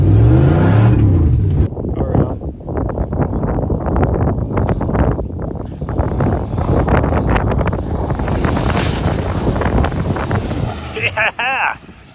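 A Dodge 1500 pickup truck drives hard toward a dirt jump beside a barn, its engine roaring loud and close under heavy wind buffeting, with people shouting over it and a brief drop near the end.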